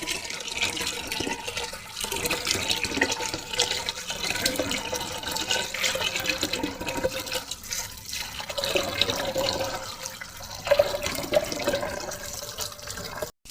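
Lentils and rice for khichuri being rinsed in water by hand, a steady close splashing and sloshing with running-water hiss throughout, no talking.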